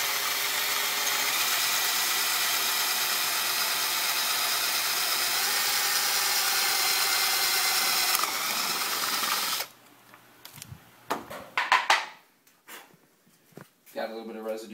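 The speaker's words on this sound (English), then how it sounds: "I'm going to take a 5/8 spade bit, put inside my trusty Makita here" A Makita drill fitted with a 5/8 spade bit drills steadily for about nine seconds with a loud continuous whine, then stops, followed by clattering handling sounds.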